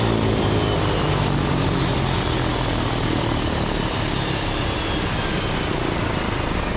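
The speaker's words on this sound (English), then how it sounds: "sweet sound of turbine power never gets old." A loud, continuous roar of an aircraft turbine engine running, with a steady high whine over a dense rumble throughout.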